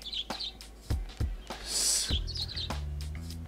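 Bright chirps from a bird in the video game Webbed come in quick repeated bursts, with soft thumping game effects and a brief whooshing swell in between.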